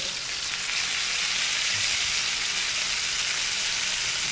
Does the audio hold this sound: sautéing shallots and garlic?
yes